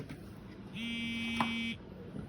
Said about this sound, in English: beeping all over the place